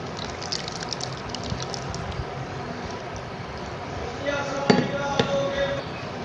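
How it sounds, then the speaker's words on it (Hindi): Oil poured into a traditional Indian mango pickle, a soft liquid gush and splash rising briefly near the end over a steady background hiss, close and moderately loud. "ये देखिए हम तेल डालेंगे अब इसमें"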